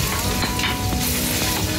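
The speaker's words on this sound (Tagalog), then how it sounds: "So since na mainit ang ating mantika, i-isa natin ang ating luya." Ginger sautéing in hot oil for chicken tinola, a steady close sizzle with light stirring clicks throughout.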